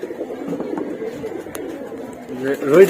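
Pigeons in a loft coo in a soft, steady murmur, close by and continuous, while someone talks over them throughout.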